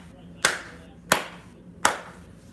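Three sharp hand claps, evenly spaced about two-thirds of a second apart, close and crisp against a quiet room with no talking.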